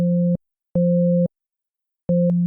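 A steady low sine tone with its third harmonic added, pulsing on and off in three clean bursts separated by silence.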